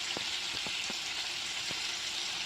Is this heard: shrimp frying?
yes